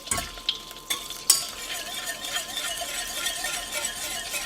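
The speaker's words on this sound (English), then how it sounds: "the butter is almost melted" Butter melting and sizzling in a Dutch oven, a soft steady crackle with a few sharp clicks near the start, close and alone without talk.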